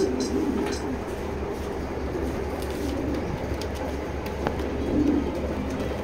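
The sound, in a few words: pigeons at a pigeon loft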